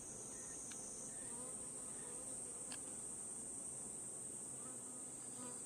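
Honeybees buzz faintly around an opened hive during beekeeping work, a thin continuous drone with a few brief clicks and knocks.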